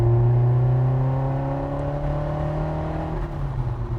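Lotus Esprit S4 driven on open roads: a steady engine drone with rising harmonic tones as it accelerates through the gears, loud and close throughout with no talking.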